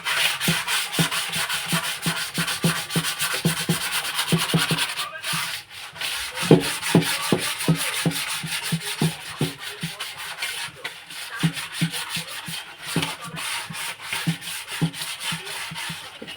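Sandpaper rubbed briskly over a speaker part during a speaker fitting, giving a steady run of close, rhythmic scratchy strokes with a brief pause partway through.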